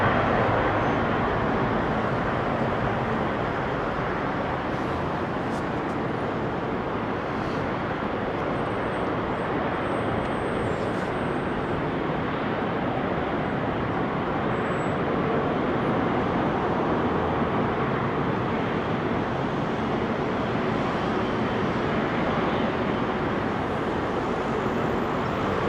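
Jet airliners departing runway 27R at London Heathrow, a steady, continuous broadband engine roar heard at a distance, with no distinct rise or fall over the stretch.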